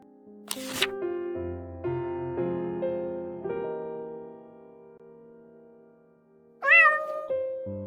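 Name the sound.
stray cat meowing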